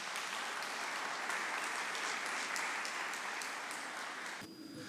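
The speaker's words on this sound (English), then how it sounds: "And with a big round of applause, we welcome Mr. Michael Borden on stage." A large crowd applauds steadily, a dense wash of clapping that holds evenly before cutting off abruptly near the end.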